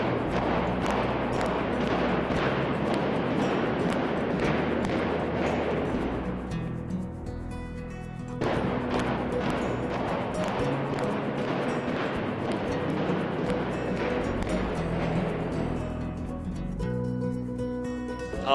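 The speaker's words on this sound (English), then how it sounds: "You could feel the shock waves, you know, the loud explosion, the the building coming down is amazing." A building is brought down by demolition explosives, with a rapid series of loud blasts and cracks followed by a rumbling collapse. A second burst of booming and crashing follows after a short lull.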